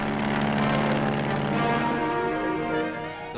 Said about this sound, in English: pilotless planes rehearse their part in the operation